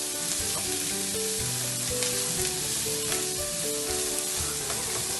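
Vegetables such as carrot frying in a pan while cooking veg pulao at home, a dense continuous sizzle with occasional stirring scrapes, steady and close.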